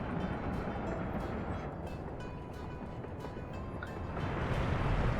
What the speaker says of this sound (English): How's the train going here?